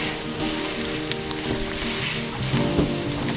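Onions and celery fry in a pan with a dense, continuous sizzle, close and steady, with a few faint clicks of utensils scattered through it.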